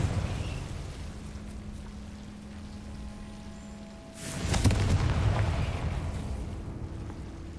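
In the video game Hogwarts Legacy, the Confringo fire spell explodes midway through a steady low background hum. A sudden loud blast gives way to a rolling, rumbling roar that carries on to the end.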